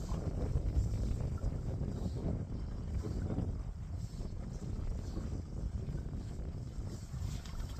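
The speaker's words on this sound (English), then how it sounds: "The wind's blowing pretty good, but it's been out of the south." Steady wind blows across a lake from the south, a low rumbling buffet against the microphone, constant and fairly quiet with no talk.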